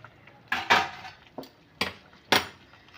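A lid lifted off a pot of steamed giant freshwater prawns, giving a few sharp metallic clinks and clanks spaced unevenly over a few seconds, close and fairly loud against a quiet kitchen.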